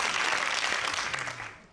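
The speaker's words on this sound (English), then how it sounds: "give it a round of applause" Studio audience applause on a British television game show, a dense wash of clapping that fills the clip at steady volume and fades slightly toward the end.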